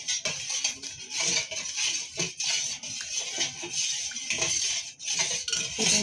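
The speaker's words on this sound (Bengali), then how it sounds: "এখন জলজিরাটাকে আমি ভালো করে মিক্স করে নেব।" A spoon stirring jaljeera water, giving a run of quick light clinks and scrapes against the vessel, close and continuous without talk.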